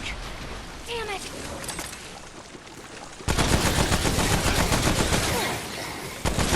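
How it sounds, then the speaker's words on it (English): Dense gunfire from the video game Remnant: From the Ashes, a quieter stretch of scattered shots giving way to loud sustained rapid fire for the second half, with a voice talking over it. "So I just start shooting them from however far away they are."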